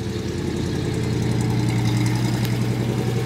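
The engine of a custom 1956 Ford F100 panel truck runs steadily, a loud, close, low rumbling idle with constant throb and no break.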